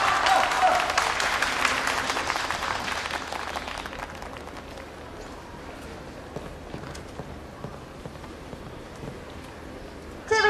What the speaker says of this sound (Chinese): 大伙儿给他鼓鼓掌